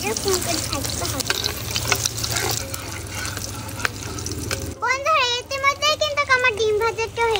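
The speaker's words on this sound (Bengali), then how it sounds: "ডিমটাকে ভালো মতো নাড়িয়ে দেব।" Beaten egg frying in a pan, stirred with a utensil: a steady sizzle with scraping strokes, then a voice talking over the frying in the last few seconds.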